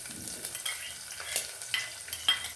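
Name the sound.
ginger, garlic, onion and green chillies frying in oil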